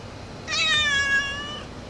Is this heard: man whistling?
no